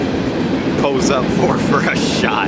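A fast freight train on the Lake Erie coast line in northwestern Pennsylvania rumbles past with a steady, loud roar of wheels and cars, while people talk briefly over it.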